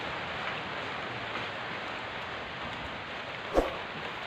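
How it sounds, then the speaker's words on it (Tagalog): Steady heavy rain hisses without a break in a cemetery, with one brief louder thump partway through. "Malakas ng ulan"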